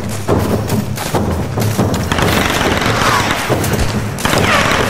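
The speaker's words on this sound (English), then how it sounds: "He's shooting right at me, but I don't know where he's at." Loud, dense enemy gunfire in the action game Tomb Raider, rapid overlapping shots and thuds filling the whole stretch with bursts of booming fire.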